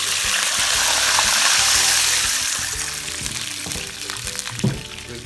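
Three glasses of water pour into a pot of rice with garlic for Kashmiri daal chawal, a steady close rushing gush that eases off, with faint clinks near the end.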